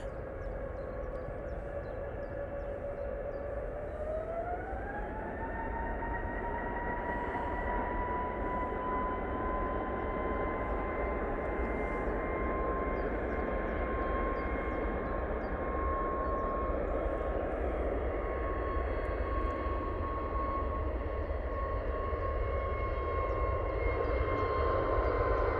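An EasyJet jet airliner departs Manchester Airport in low-visibility conditions, its engines a steady, loud roar that rises in pitch partway through and holds a sustained whine, with no talk over it.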